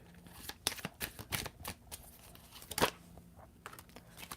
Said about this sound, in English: But then now I'm gonna shuffle.